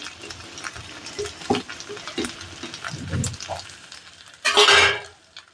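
Fried cauliflower, potatoes and peas are stirred in a pan, with soft scraping and light sizzling broken by a few clinks, then a louder burst of hissing near the end.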